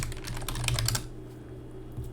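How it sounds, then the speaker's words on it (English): Rapid keystrokes on a computer keyboard fill the first second as a close, dense clatter, then fall away to quiet room tone with a faint hum. "typing too fast."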